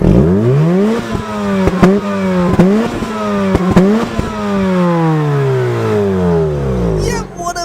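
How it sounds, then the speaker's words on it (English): Mazda RX-8 rotary engine revs repeatedly, loud and close, with pitch sweeping up and falling back in several quick blips between sharp pops, then a longer drop as it settles, recorded in real life. "rotaries do sound pretty good in real life, and, you know, the RX8 is no exception. I mean, listen to this."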